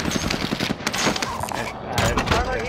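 Enemy gunfire in Call of Duty: Modern Warfare, dense crackling bursts of shots in a busy firefight, loud and continuous throughout with voices mixed in.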